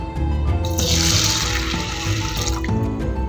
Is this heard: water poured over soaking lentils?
yes